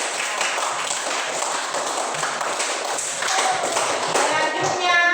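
Children in a classroom clap their hands together in a sustained, dense patter lasting several seconds, with voices murmuring faintly underneath.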